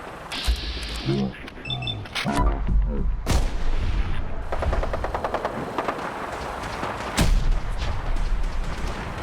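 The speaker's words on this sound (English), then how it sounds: "We go in shooting." Gunfire rattles in Fallout 4, loud, close shots and bursts with sharp cracks among the continuous combat din, including a heavy report near the end.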